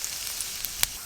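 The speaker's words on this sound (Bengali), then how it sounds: "সর্ষের তেল, গোটা জিরে আর তেজপাতা ফোড়নে দিয়ে দেব।" Mustard oil sizzles as whole cumin seeds and bay leaf are tempered in a pan, a brief soft crackling hiss with a few sharper pops.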